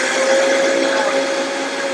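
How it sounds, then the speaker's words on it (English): A home blender running on low speed while blending a raw green smoothie with water, a loud steady whirring motor drone with a constant pitch, continuous and alone. "I can see why the Vitamix does a much better job because my blender doesn't do anywhere near what that just did"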